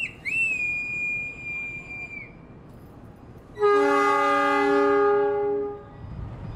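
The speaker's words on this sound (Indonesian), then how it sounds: "Rangkaian kereta api Argo Bromo Anggrek akan ditarik terlebih dahulu menuju Depo Jakarta Kota." An Argo Bromo Anggrek passenger train being pulled to the Jakarta Kota depot: a high, thin whistle first, then a loud, close, multi-tone horn blast held steadily for about two seconds over rumbling background noise.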